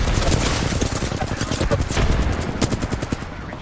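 Video game automatic gunfire rattles in rapid, continuous bursts, loud and close throughout, with a dense chattering rhythm that barely pauses.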